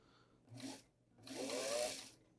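A vintage Singer 327 sewing machine runs in two short bursts, a brief whir followed by a longer, steadier mechanical hum, fairly quiet and close with no talking.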